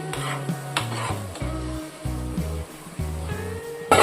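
Tomatoes sauté and sizzle in hot oil for a prawn thokku, with a steady frying hiss and occasional stirring scrapes in the pan, set against a prominent tonal backing throughout.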